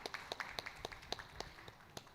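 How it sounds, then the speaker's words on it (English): Sparse, quiet clapping from an audience at a TiECon Surat 2023 panel event: a few scattered claps ringing out distantly rather than full applause. "This deserves a round of applause."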